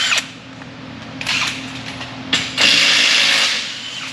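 A pneumatic impact gun spins lug nuts on a 2015 Ford F150 wheel in short bursts, close and loud, with a longer rattling run near the end.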